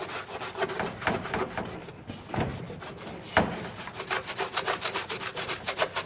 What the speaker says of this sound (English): Next with the microfiber towel, let's start cleaning it up.